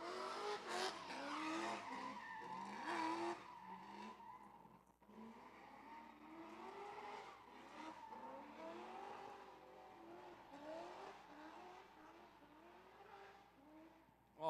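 Race car engine at a live motorsports track event, distant revving and tire squeal rising and falling in repeated passes, fairly faint and heard alone without talk.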